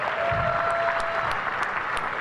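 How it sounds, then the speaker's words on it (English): A room full of people at a rugby club's player of the year awards clapping steadily in a sustained round of applause, broad and even throughout with no talking over it. "Can we have like a proper round of applause?"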